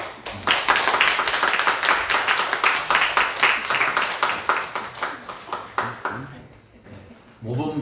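Applause breaks out at a Korean church service during an award presentation to a Sunday school teacher, a dense, steady clapping from a gathered congregation that thins out toward the end while a voice speaks over it.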